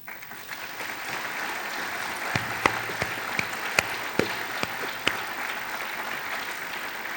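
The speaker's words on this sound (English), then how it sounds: "So a big applause to the teachers first." Sustained applause from a large convocation audience, steady clapping with a few sharper claps standing out, continuing throughout.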